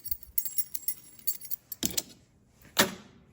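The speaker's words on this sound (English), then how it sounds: "I just found a spare set of keys." A spare set of keys jangles in a garage where a 1957 Dodge Coronet is being assembled, a run of quick light metallic clinks followed by two louder, sharper rattling bursts, close and alone.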